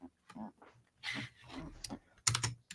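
Scattered computer keyboard keystrokes tap in short irregular clusters, faint and near, with pauses between bursts.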